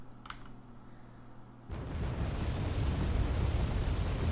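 Artillery fire in a strategy video game, heard as a sudden deep rumbling onset that keeps roaring steadily after a quiet lead-in.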